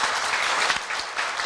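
Steady, dense applause from an audience at a university staff retirement ceremony fills the whole short stretch at a fairly loud level, with only faint voices in the background.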